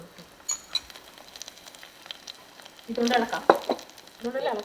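Two spoons of sliced garlic sizzle faintly in a pan, building into a louder burst of frying and stirring clatter midway, with brief quieter crackles toward the end.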